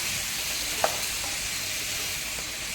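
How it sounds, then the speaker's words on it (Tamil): Chicken being fried and mixed into masala for a restaurant-style tandoori chicken masala gives off a steady, even sizzle throughout, with one sharp utensil click near the start and no voices. "நம்ம இப்போ சிக்கனில் மசாலாவில் மிக்ஸ் பண்ணிக்கணும்."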